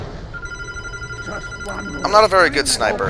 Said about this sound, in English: That's the phone, ignore that.